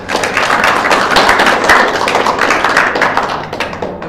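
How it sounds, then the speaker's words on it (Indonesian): Loud, dense hand clapping from an audience of pesantren students at an Islamic boarding school lesson on reading kitab, a close, continuous roar of claps that fills the whole stretch. "Tepuk tangan"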